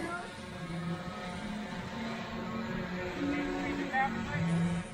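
A small drone in flight gives off a steady, whining propeller hum with slight pitch shifts, heard at moderate distance against outdoor background noise.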